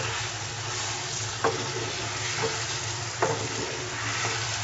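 Chicken karahi frying in a pan over medium heat, giving a steady close sizzle with a few soft stirring clicks and scrapes, with no talking.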